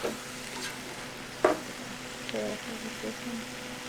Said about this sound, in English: And now we'll add another bit of vinegar.